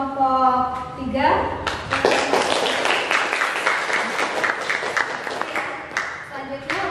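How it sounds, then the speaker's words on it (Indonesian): A classroom group claps for a presenting team, starting after a voice and building into a lively burst of close hand claps with distinct slaps, then fading as talking resumes. "tepuk tangan untuk kelompok 3"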